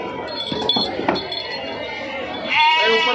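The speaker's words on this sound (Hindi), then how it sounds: "दोनों बोकड़े" Two-month-old young goats at a busy livestock market in Chakan near Pune bleat amid crowd noise and talk, with a louder, wavering bleat rising near the end.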